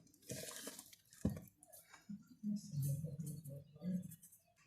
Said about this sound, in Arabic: وهنبتدي بقى نعجن بايدينا.